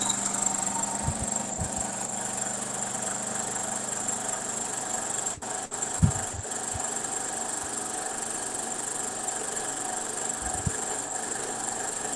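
Refrigerant recovery machine starting up and running, giving a steady mechanical motor hum with a high whine and a few low clunks and knocks near the start, close and continuous, with no talking.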